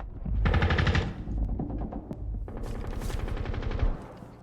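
Rapid automatic gunfire from Rainbow Six Siege gameplay, loud close bursts with a short gap before a second sustained volley.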